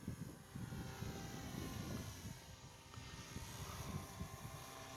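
A small model airplane, a first flight-test plane built in 2013, drones steadily overhead with a continuous engine buzz that swells and fades slightly over several seconds, moderately distant, with no talk.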